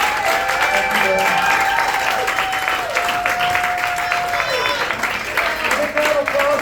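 An audience at an evening magic show applauds loudly and continuously, with sustained musical tones sounding over the clapping.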